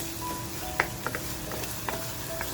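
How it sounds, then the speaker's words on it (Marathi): Onion with a little salt sizzling steadily in a hot pan of oil for a spicy bombil and potato curry, a soft continuous crackle with a few faint clicks of stirring, close and quiet, no talk. "कांदा आपल्याला छान म्हणाला तर अगदी पोळवून घ्यायचंय, म्हणजे फ्राय करून घ्यायचंय"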